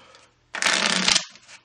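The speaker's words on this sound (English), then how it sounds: "All it requires is just a quick riffle shuffle, maybe one or two," A quick riffle of playing cards, a dense fluttering burst lasting under a second, close and crisp, ending with a soft settling sound.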